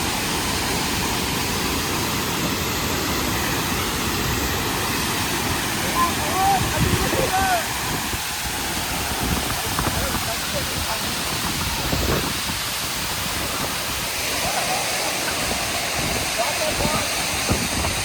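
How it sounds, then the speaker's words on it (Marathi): Ranpat waterfall in the Konkan region roars as water drops from above, a loud, continuous broadband rush that fills the whole stretch with a few faint sounds over it. "आता आपण आलोय रानपाट धबधब्यावर. बघा कसा पाणी पडते वरून."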